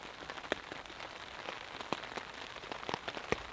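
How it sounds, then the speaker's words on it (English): Light rain patters on a surface at a campsite, with scattered distinct drops tapping irregularly over a soft, quiet background wash. "It is now raining out there."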